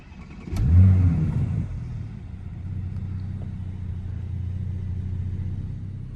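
A 2020 Porsche Panamera engine cranks and fires with a loud roar, then settles into a steady low idle rumble close by.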